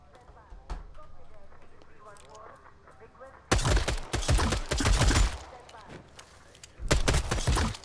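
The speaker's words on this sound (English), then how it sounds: "I hear shooting" Gunfire in Vampire: The Masquerade - Bloodhunt arrives as loud, sharp bursts of rapid shots in two clusters after a quieter stretch, with a voice talking beneath the opening section.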